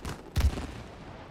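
A single short gunshot thump from shooting in the video game It Takes Two, punchy and brief, with a quick decay and no talk over it.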